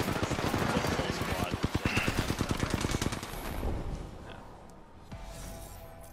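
Rapid automatic gunfire in the video game Apex Legends, a dense fast burst of shots for about three seconds that trails off into game ambience, with voices talking over it.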